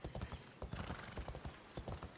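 Horse hooves clip-clopping in Assassin's Creed Odyssey, a steady rhythmic trot of close, distinct hoof beats on the ground with a brief whinny mixed in.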